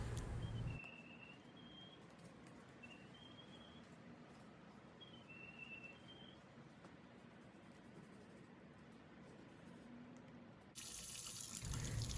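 Water runs from a tap as leggings are rinsed under it, a steady splashing flow that starts and stops abruptly at either end and stays fairly quiet throughout, with no talk.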